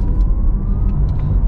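A 2021 Porsche Taycan Turbo electric car accelerates uphill from inside the cabin, giving a loud, steady road and motor rumble with a faint rising electric whine.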